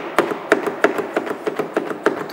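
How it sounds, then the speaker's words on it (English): A BMW 1 Series car door is tested repeatedly after door handle work, giving a steady series of sharp knocks and thunks roughly every third of a second, close and fairly loud. "Now I will test the door."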